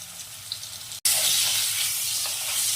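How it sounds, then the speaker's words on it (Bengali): Steady sizzling of potatoes frying in hot oil, close by, growing louder after a brief pause partway through. "তেল গরম হয়ে গেছে, আলুটা ভেজে নিচ্ছি।"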